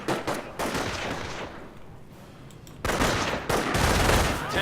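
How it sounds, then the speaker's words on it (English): MG42 machine gun fire in a World War II shooter game, dense overlapping bursts of automatic gunfire, a quieter lull midway, then louder sustained firing toward the end, with no talking. "MG42 is going off"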